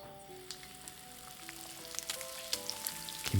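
Gim bugak seaweed chips deep-fry in plenty of oil at 160 degrees in a deep wok, giving a soft, steady sizzle with small crackles and pops that grow a little busier near the end, close and quiet.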